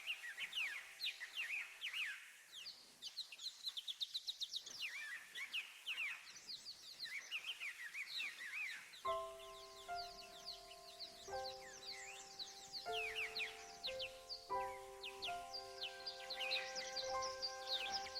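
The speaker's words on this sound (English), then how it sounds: "the occasional quiet bird song" Birds sing in an evening garden, their chirps and warbles rising and falling throughout, with steadier whistled tones joining partway through; the calls sound fairly distant and soft against a quiet background.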